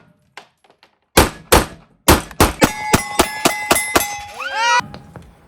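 A Glock 17 with an aftermarket trigger fires Fiocchi 115 grain rounds at a range: two sharp shots, then a fast string of about eight evenly spaced loud reports, with ringing metallic tones at the end.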